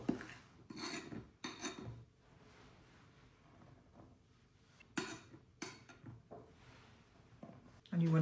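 Flour and salt are stirred together in a bowl for roll dough, giving soft gritty scrapes and rubbing bursts at the start and again near the end, with a quieter lull in between and a voice speaking over parts of it.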